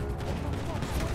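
Gunfire rattles in GTA V during a chaotic shootout, a dense, close burst of overlapping shots filling the brief moment.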